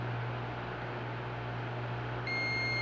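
Over a steady electrical hum, a multimeter's continuous high electronic beep, testing a microwave oven fuse, starts near the end and holds until the clip stops.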